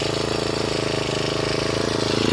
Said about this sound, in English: I'm just gonna start it up. You can hear the motor